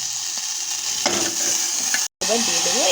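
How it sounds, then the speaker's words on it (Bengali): Potatoes frying in oil with nigella seeds and a split dried chili, a loud continuous sizzle with spatula scrapes, a brief dropout, then stirring resumes close by. "কালো জিরে ফোড়ন আর একটা শুকনো লঙ্কা চিড়ে সাঁতলে ওঠার পর দিয়ে দিচ্ছি আলুগুলো"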